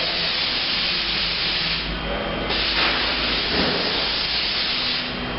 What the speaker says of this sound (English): This is what I'm going to use just because it's quick out of the spray can.